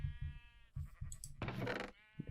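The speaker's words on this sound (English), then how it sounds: "So basically sheep sorted by color." Sheep in a Minecraft wool farm bleat several times in quick succession, close and clear, with wavering nasal calls. Short chirpy game noises are mixed in between them.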